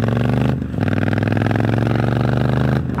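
A Triumph Street Scrambler motorcycle pulls hard in second gear on an off-road trail, its engine droning loud and close with a steady throbbing note and a brief dip at a gear change.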